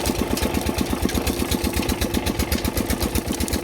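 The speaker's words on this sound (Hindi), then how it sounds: "पीछे जो है ना पीटर इंजन लगा हुआ है, आगे जो है ना इसे बोलते हैं बेलना।" A Peter engine drives a sugarcane juice crusher with rollers, running steadily with a fast, even low thumping beat, loud and close, with no speech.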